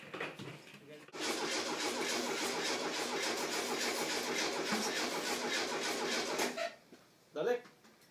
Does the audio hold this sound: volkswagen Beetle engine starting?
yes